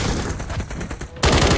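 Rapid bursts of automatic gunfire in a Call of Duty Modern Warfare III multiplayer match, a steady crackle that jumps to a louder, denser volley near the end, with no talk over it.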